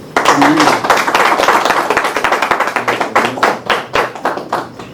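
An audience at an academic linguistics event applauds, dense close clapping from many hands that thins into scattered individual claps toward the end.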